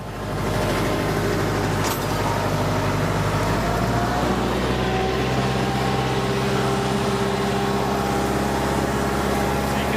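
Tractor pulling a two-bottom plow through a garden, its engine droning steadily and loudly throughout with a low rumble and a faint shift in pitch, no voices.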